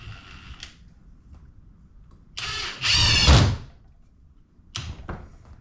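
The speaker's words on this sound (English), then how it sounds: "let's go ahead and let's drive one of these screws in here and see what happens" A Seesii WH700 3-in-1 impact tool driving a screw: a short, loud burst of whirring and hammering impacts that lasts about a second, followed by a quieter brief run of the tool.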